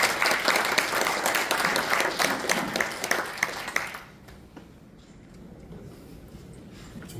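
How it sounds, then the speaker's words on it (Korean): Applause from a large crowd at a formal ceremony for about four seconds, then it dies away to quiet room tone. "이번 박수로 맞이해 주시기 바랍니다."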